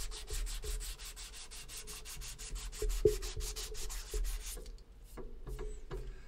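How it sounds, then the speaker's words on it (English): Steady rhythmic rasping of flexible sandpaper rubbed back and forth by hand, quick repeated strokes, close and loud, easing into lighter scattered scrubs near the end. "Gets you right around hand sanding and flexes around everything."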